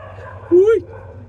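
A dog gives a single short, rising yip or bark, close and clear, over a low steady background murmur.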